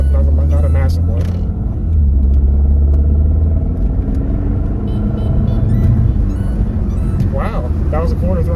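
A 2018 Volvo V60 Polestar pulls away under gentle quarter-throttle acceleration, its engine a steady low rumble heard from inside the cabin with a voice talking over it.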